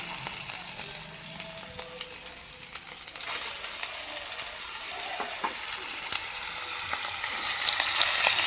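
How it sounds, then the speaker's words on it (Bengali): Chopped tomato goes into hot oil with ginger paste and whole spices for a potato and pointed gourd curry, and a steady sizzling hiss builds and grows louder with faint stirring clicks. "বড় সাইজের একটা টমেটো কুচি দিয়ে দিচ্ছি।"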